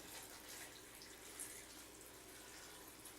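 Water running into a pot of cleaned, cubed potatoes, a faint, steady hissing trickle that continues evenly throughout with no voices.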